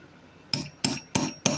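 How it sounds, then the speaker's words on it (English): Four sharp, evenly spaced hammer strikes ring out close by with a bright metallic clink, each blow a fairly loud, crisp hit against a quiet background. "I'll be done hammering in just a minute"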